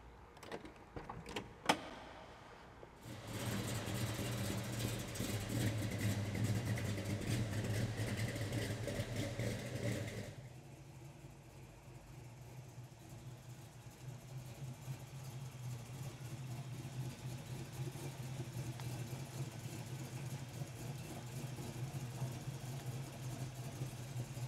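A 1968 Chevelle SS restomod on 20-inch US Mag wheels starts with a few clicks and then a steady engine drone, louder at first and then settling into a lower, even cruise rumble, with no talking.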